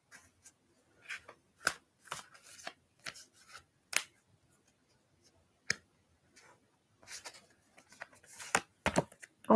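Tarot cards are shuffled in quick irregular bursts of crisp riffling and flicking, close by and otherwise quiet between bursts.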